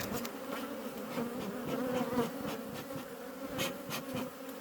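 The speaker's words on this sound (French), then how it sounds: "déjà on voit qu'il y a beaucoup d'abeilles" Dense, continuous buzzing of many honeybees around a hive, close and steady, with individual bees droning past now and then.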